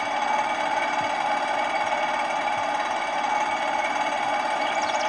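A John Deere riding lawn mower in a video game drones steadily while mowing, a constant mid-pitched engine rumble with a faint knocking texture that holds at even loudness throughout, with no talk over it.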